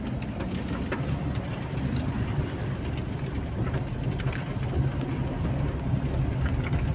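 Vehicles overtaking one another on a bypass road, heard as a steady close rumble of engine and tyre noise with a broad constant roar and no talk.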